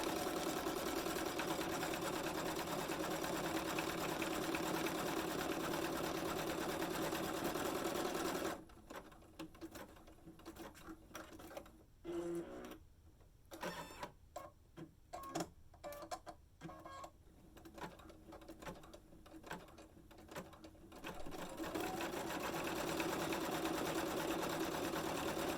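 An embroidery machine with a size 12 embroidery needle stitches an appliqué monogram letter on vinyl, giving a steady, close mechanical whir that briefly breaks into irregular clicking stitches mid-way before resuming.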